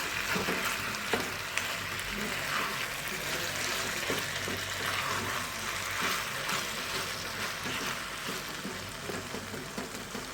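Eggplant cooks and gets stirred in a pan of tangy tamarind masala, giving a steady close sizzle with faint scraping and bubbling throughout, no talking.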